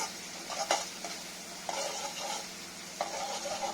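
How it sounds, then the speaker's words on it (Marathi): A tempering of garlic, green chili and turmeric fries in a kadhai, giving a low, steady sizzle broken by several scraping stirs and light clinks of a spatula against the pan. "आता आपली फोडणी चांगली परतली"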